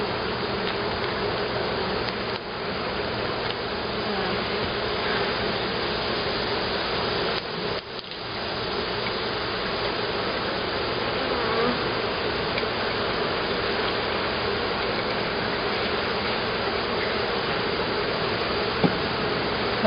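Honeybees taken from a hive buzz inside a half-cup sample container, a dense, steady close-up drone that continues without a break, with a brief knock or rustle of handling partway through.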